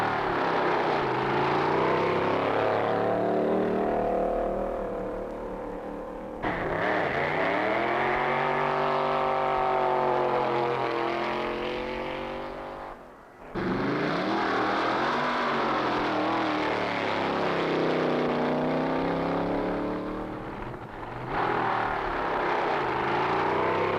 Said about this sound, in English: Right now, time trials are being run, the pre-competition shakedown runs for cars and drivers.